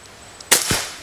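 Single sharp crack of a Marauder PCP air rifle firing a pellet at a target, close and loud, with a brief fading tail and a faint click just before.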